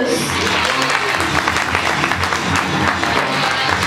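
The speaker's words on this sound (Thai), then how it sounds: "ขอเสียง ดังๆปรบมือต้อนรับ" A crowd applauds steadily to welcome a speaker at a gaming press conference, dense clapping filling the room at close range for a few seconds.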